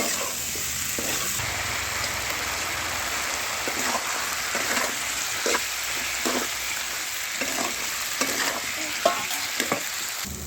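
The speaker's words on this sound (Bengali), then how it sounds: "ভালো করে মাখিয়ে ওটাকে আলুগুলোকে ভেজে নেব।" Potatoes coated with turmeric and salt frying in oil in a pan, a loud steady crackling sizzle with repeated soft scrapes and clicks of stirring throughout.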